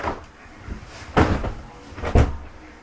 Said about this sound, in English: We're gonna take the door from under my bed and put it back.